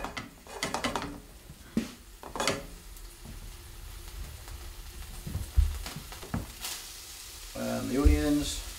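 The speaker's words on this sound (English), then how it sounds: "Just going to add the garlic." Garlic sizzling in a hot pan with whiskey and steak, an uneven crackling fry broken by clanks and scrapes of the pan.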